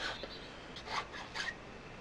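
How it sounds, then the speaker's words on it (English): Hand filing smooth a joint on an old spinning rod handle, quiet close rasping strokes, about three distinct passes in two seconds, with no talking. "So what I'm doing now is I'm just filing the joint smooth."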